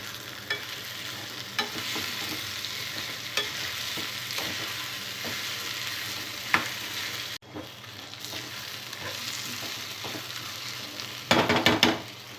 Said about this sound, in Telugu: బంగాళదుంప ముక్కలు వేసిన తర్వాత మూత పెట్టి 5 మినిట్స్ పాటు ఆయిల్లో మగ్గనివ్వాలి.